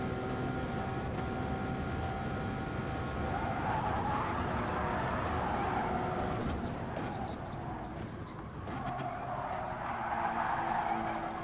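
Race car tires skid and squeal under hard braking at the Nordschleife in Gran Turismo, a GR4 car's continuous loud screech blending with engine noise and holding steady through the whole stretch.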